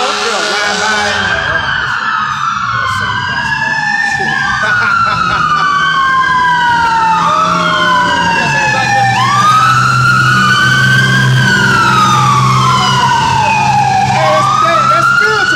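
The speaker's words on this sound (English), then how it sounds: "Satan send the fire truck through, he trying to put the fire out." A fire truck siren wails through repeated rising and falling sweeps, loud and close as it passes, with engine rumble beneath and a voice talking faintly.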